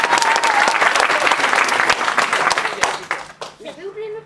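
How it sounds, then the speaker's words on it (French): Dense, sustained audience applause fills a youth theatre workshop performance in Rennes, loud and close, thinning out near the end as a voice begins speaking over the fading claps. "Un tonnerre d'applaudissements, s'il vous plaît."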